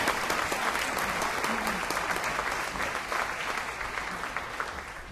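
Audience applause at a Los Angeles chapter AIA honorary award event, steady and sustained from a large crowd throughout, with no talk over it.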